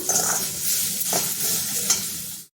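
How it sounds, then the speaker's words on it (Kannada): A tomato and spice mixture with coriander powder sizzling and frying in a pan for a fresh turmeric root curry, a steady close hiss with occasional stirring scrapes, ending abruptly, no talking. "ಇದನ್ನು ಟೊಮೆಟೊ ತೇವದಲ್ಲಿ ಸ್ವಲ್ಪ ಸುಟ್ಕೊಳ್ಳೋಣ"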